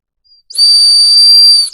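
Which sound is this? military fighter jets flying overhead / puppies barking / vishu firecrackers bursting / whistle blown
whistle blown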